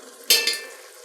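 A spoon stirs tablespoon of tomato paste into lamb bolognese in a hot pan, a short close burst of scraping and soft sizzle that fades quickly, with a second smaller stroke after.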